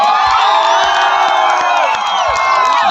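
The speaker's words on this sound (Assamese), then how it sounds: "সকলোৱে এবাৰ জোৰকে হাত চাপৰি বজাওক।" A large crowd claps and cheers loudly and steadily at a Bihu stage event as a singer is welcomed, with whoops and shouts rising over continuous dense applause.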